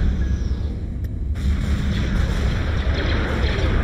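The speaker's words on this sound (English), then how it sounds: "Just firing your missiles, that's all I want." Missile batteries fire in Empire at War as a steady, low rumbling barrage with muffled booms rolling continuously underneath, a faint sharp blip near the start.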